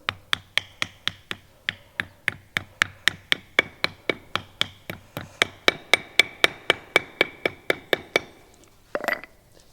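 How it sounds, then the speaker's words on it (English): Sharp, evenly spaced metallic taps knock a release bearing onto a VW 020 gearbox from a Golf mk1 to mk4, about thirty close hits at a steady rhythm, followed by a short rattle. "And literally just kind of tap it on and job done."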